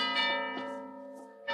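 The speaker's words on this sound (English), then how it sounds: "The monastery bell is ringing." The bell of a deserted monastery near a waterfront rings at evening, a deep, resonant toll with a long humming decay, struck again so the ringing swells anew, clear and alone without voices.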